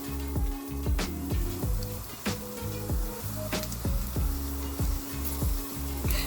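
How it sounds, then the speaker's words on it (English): Meatless chili cooks in a pot over high heat, with a steady sizzle under repeated scraping strokes of a spoon against the pot and a bubbling simmer, close and alone without talk. "And I've started it off on high, and then I'll turn it down and I'll keep stirring it so it will not stick"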